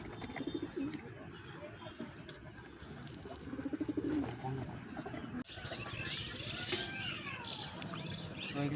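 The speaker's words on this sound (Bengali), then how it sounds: "তো এগুলো সব আছে আমার পায়রা" Domestic pigeons coo in low, soft, repeated calls close by, mixed with insect chirping and other background noise, and a voice is faintly heard at times.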